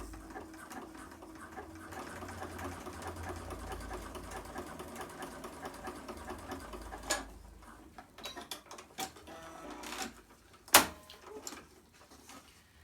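A sewing machine stitches down the folded ends of elastic, whirring steadily for several seconds before slowing into a few separate clicks and knocks, close and fairly quiet.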